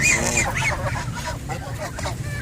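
Fowl in a backyard bird collection of African birds and serama chickens. Loud honking calls ring out close by over a steady din of other birds clucking and calling.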